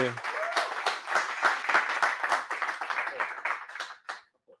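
Several people break into enthusiastic applause, a close, bursting patter of claps with voices calling out over it before it cuts off abruptly near the end.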